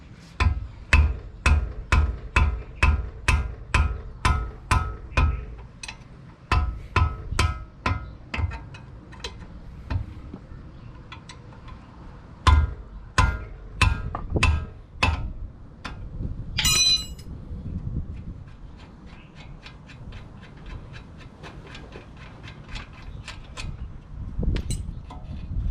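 Bolts come off a brake caliper mount on a 1994 Toyota Camry with a fast, loud series of ratcheting clicks from a wrench, followed by bursts of quicker ratcheting and metallic clinks close by.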